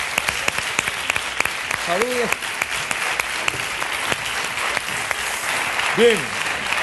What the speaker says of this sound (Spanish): Un aplauso para Eva.